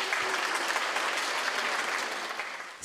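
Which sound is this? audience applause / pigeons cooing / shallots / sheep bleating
audience applause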